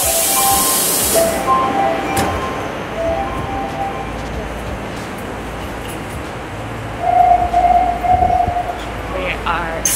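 Rumbling train ride with steady low rattle and hiss, a burst of high hissing at the start and squealing tones later, continuous throughout.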